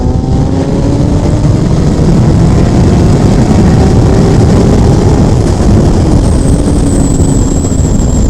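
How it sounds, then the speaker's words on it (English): Honda CBR 1000RR SP motorcycle accelerating hard in third gear around 7000 RPM, a loud, close, steady engine roar with a slowly rising pitch and wind rush throughout, no talking. "You want to see how powerful the bike is? 7000 RPM, third gear."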